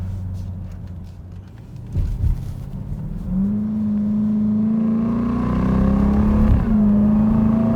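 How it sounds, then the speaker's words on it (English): A 2021 Dodge Durango SRT Hellcat with a supercharged V8 accelerating hard through paddle-shifted gears, engine note climbing steadily with a rising whine and a quick shift break along the way, loud from inside the cabin. "it's time to test out those paddle shifters"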